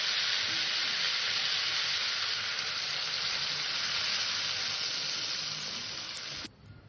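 Water poured into a wok of fried-down fish curry, setting off a loud, steady broadband sizzle that holds for about six seconds before abruptly dropping away near the end.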